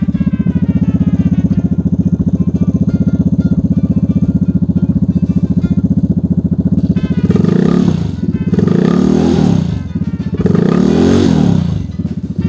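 A Vespa scooter fitted with a cold air intake runs steadily while warming up, its loud, close engine drone broken later by several sharp revs and roars.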